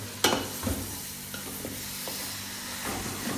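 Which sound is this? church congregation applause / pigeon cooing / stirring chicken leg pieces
stirring chicken leg pieces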